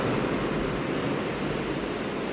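Black Sea waves crash onto a beach in strong wind, a loud, unbroken roar of surf and gusting air with no voices.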